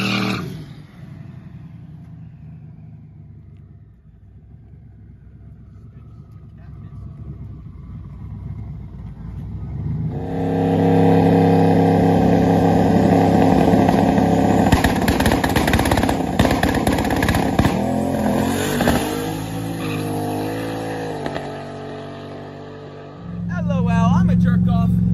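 A loud street-racing car accelerates hard. A quieter, fading stretch gives way to a roaring engine surge from about the midpoint that holds loud and close before cutting off near the end. Voices are faint or absent.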